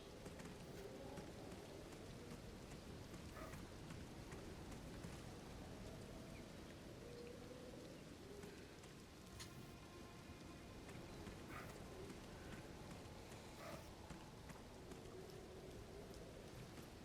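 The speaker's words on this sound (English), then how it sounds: "monsoon season's like the one time we really get rain" Monsoon rain falls steadily on surfaces, a soft, even hiss of drops with occasional brighter patters and faint bird calls in the distance, no voices.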